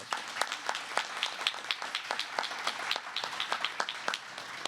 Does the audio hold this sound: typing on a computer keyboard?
no